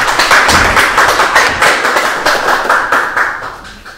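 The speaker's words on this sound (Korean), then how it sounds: "박수 한번 쳐주시죠" An audience at a history lecture claps in a lively, close burst of individual hand slaps that forms a dense patter and gradually thins out over a few seconds.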